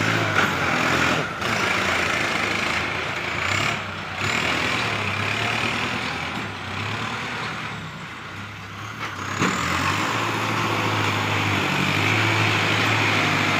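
A dump truck bringing in soil rolls onto a worksite with a heavy, rumbling diesel engine that revs and surges unevenly. It stays close and loud, with a hiss like an air brake partway through and no talk.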